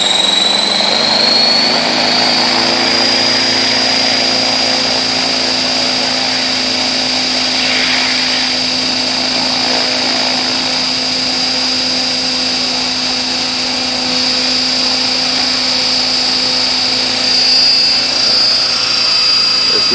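AH-1 Cobra model helicopter hovering on its maiden flight, rotor spun up slowly, a loud steady high-pitched turbine whine with constant rotor drone holding evenly close by throughout.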